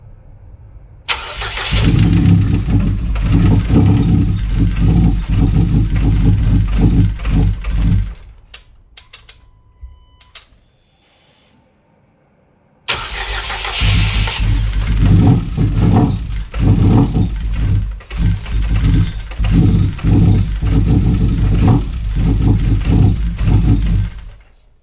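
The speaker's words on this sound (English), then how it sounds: "I'm going to start the car" Ford Figo engine cranking and catching, then running loud and close for several seconds, cutting out to near silence, then restarting and running steadily again, all without talk.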